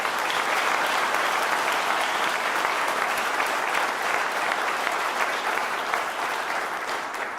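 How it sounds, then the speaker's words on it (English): An audience claps steadily at a ribbon cutting for a restored AME Zion church, a dense, sustained round of applause filling the whole stretch, fading slightly toward the end. "So let's give them a round of applause."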